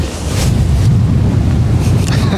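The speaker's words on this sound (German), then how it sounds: "Der Wind ist so krass." Strong wind buffets a fishing boat out on the water, roaring hard and steadily against the microphone with gusty swells and no talk.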